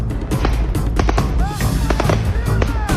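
Rifle gunfire in the war in Ukraine: rapid, loud, sharp cracks in quick succession, with whistling tones and faint voices in the background.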